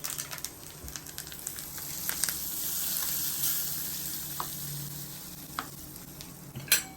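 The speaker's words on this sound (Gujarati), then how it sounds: "આ વઘાર તમે આમાં રેડી દો" Hot oil tempering with curry leaves, dried red chillies and asafoetida is poured into coconut chutney for idli and dosa. A steady, moderately loud hiss of sizzling runs throughout, with a few sharp crackles and a louder burst near the end.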